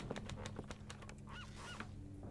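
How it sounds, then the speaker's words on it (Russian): Distant seagull-like cries in the video game The Renovator: Origins rise a couple of times over a steady low hum and scattered clicks, faint and brief. "Чайки где-то?"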